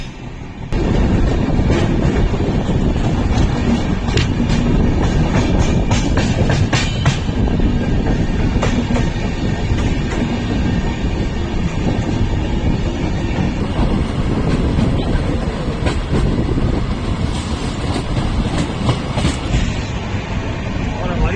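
The Goa Sampark Kranti Express runs along the rails, a loud, continuous rumble with rhythmic clickety-clack of wheels over joints and occasional faint squeal, heard from on board with a voice speaking over it.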